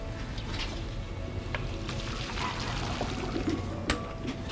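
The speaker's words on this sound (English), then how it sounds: "I will now go ahead and take it off the fire, and then I will strain the water out" Water being strained off boiled potatoes taken off the stove, a steady broadband pouring and splashing wash running throughout, fairly close, with a brief clatter near the end.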